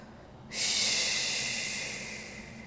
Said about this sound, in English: start to breathe nice and active in through the nose and allow that exhale to release through the teeth.